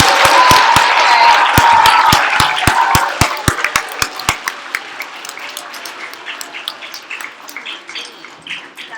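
Audience at an elementary school spelling bee clapping, with loud, dense applause that thins out into scattered, sparse claps that fade toward the end.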